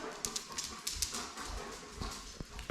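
Dogs moving about close by indoors, with scattered claw clicks, soft whimpers and panting in short irregular bursts, fairly quiet with no talk.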